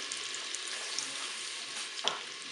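Duck breast and sauce sizzle and fry in a Cookeo pot while being stirred, a steady close crackle with a brief scrape near the end.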